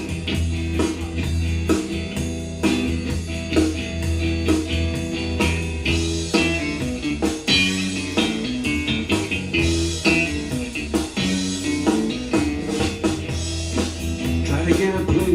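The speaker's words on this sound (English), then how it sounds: "you'll be able to hear what my band sounds like" Blues backing band track playing from a box, with guitar and vocals stripped out, heard as steady drums, bass and keys grooving loudly and continuously without any voice.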